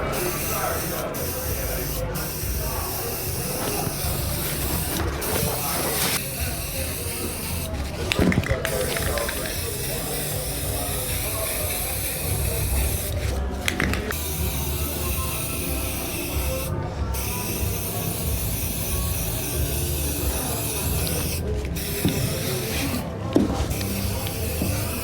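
Steady, loud hiss of spray paint as a first coat goes onto the gas tank of a vintage 1970s Honda CB360 motorcycle, running continuously with brief pauses between passes.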